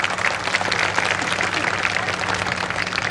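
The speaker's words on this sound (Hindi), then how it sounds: "अपने अभिनंदन में तालियां बजाएं।" Sustained audience applause at a talk on culture and identity, a dense, even rattle of many hands clapping that continues throughout at moderate loudness, with a faint low hum beneath.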